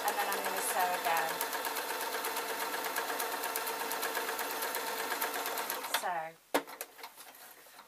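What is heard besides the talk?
sewing machine stitching a waistcoat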